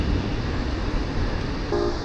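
Amtrak passenger train passing near the riverside at Jefferson City, Missouri, a loud continuous rumble with a brief horn-like tone toward the end.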